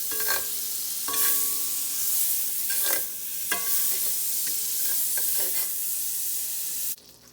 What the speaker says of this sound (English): So again, put some butter in the pan.